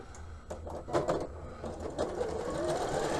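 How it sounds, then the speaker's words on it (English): A Janome 5300 QDC sewing machine runs a line of stitching with a steady, close mechanical whir and rapid needle chatter that holds through the whole stretch with no pauses. "So now when I do my line of stitching"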